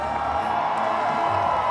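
A stadium crowd cheering at a Banana Ball game, a steady loud roar of many voices sustained throughout.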